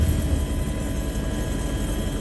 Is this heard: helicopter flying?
yes